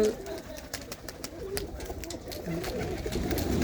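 Pigeons from a pigeon-racing club coo in low, repeated bursts close by, mixed with steady background chatter and people talking throughout.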